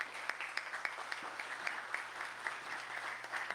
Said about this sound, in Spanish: iniciemos su participación recibiéndolo con un fuerte aplauso